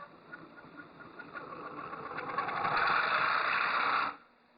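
A small electric motor drives a camera slider, whirring steadily, ramping up in speed and pitch over a few seconds, then cutting off abruptly.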